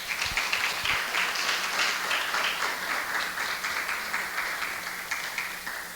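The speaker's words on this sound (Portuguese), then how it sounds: "Você pode aplaudir o Senhor por isso?" A church congregation claps in sustained applause during a sermon, a dense, even wash of many hands that holds steady and eases slightly toward the end, with no talking.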